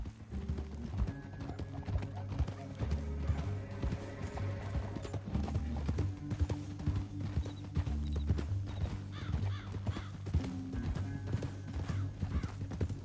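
Several horses' hooves clip-clop steadily on open canyon ground, a close, continuous rhythmic patter with an occasional whinny and a low rumbling bed of sound underneath.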